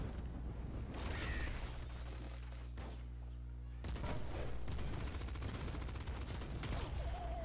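Bursts of rapid gunfire with heavy thuds rattle over a droning low hum, pausing briefly midway before firing resumes.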